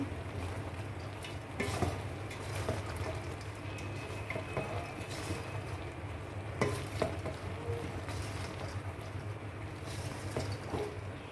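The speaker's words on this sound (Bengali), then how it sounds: "নেড়ে নিচ্ছি সিদ্ধ হয়ে এসেছে" Jujube pickle cooking in a pan with cinnamon, bay leaf, cardamom, salt and chili, stirred with steady scraping over a constant low sizzle and bubbling, close up, with occasional louder scrapes and no talking.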